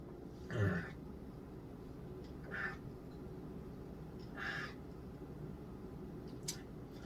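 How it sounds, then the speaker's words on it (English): A quiet room with a few scattered throat-clearing sounds and a short cough, spaced apart and fairly faint against low background hum. "I was about to cough"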